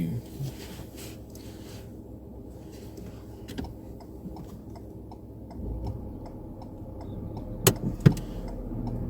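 Inside a car pulling away at the start of a mock driving test on a Chertsey route, an indicator ticks steadily over a low engine hum, with two sharp knocks near the end.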